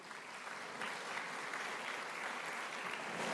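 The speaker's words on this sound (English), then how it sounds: "How about a round of applause for those sponsors" An audience at a chamber of commerce luncheon applauds the event's sponsors, a steady, even patter of many hands clapping that carries on without a break and swells slightly toward the end.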